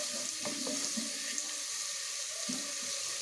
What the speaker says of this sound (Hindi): तकरीबन 2 मिनट तक हम अदरक लहसुन के पेस्ट को इस तरह से फ्राई करेंगे।